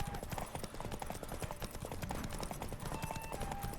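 Hooves pound in a quick galloping rhythm, a horse in the game The Witcher 3: Wild Hunt running steadily, with faint tones over the hoofbeats.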